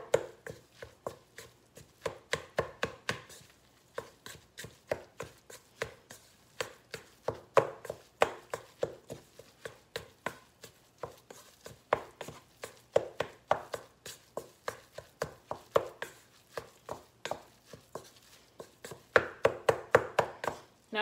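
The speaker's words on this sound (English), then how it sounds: "And while I'm doing it, I'm chopping this stuff up." A knife chops ingredients for fish and grits in shrimp sauce, producing close, steady runs of crisp board taps in quick bursts with brief pauses, and no talking over it.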